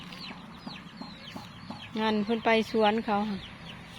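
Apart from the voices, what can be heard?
chickens clucking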